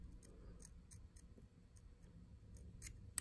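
Small scissors snipping fly-tying wing material and foam for a Chubby Chernobyl fly, a series of short crisp close snips at irregular intervals over a quiet background, no voices.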